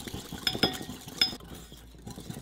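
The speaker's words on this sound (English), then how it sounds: "Just whisking it enough to get that oil incorporated" A whisk clinks against a bowl while blending a sriracha and oil marinade, several quick metallic taps near the start followed by softer stirring, close and fairly quiet with no talk.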